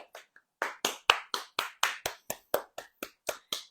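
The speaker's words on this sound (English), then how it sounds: "I'm just gonna clap my hands" One person claps their hands at a steady, even rhythm during a morning wellness routine, about a dozen sharp close claps with silent gaps between them.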